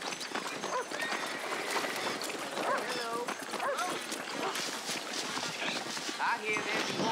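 Horse hooves in Red Dead Redemption clip-clop in a steady trot amid busy outdoor game ambience, with an occasional whinny-like call and a dense layer of background noise.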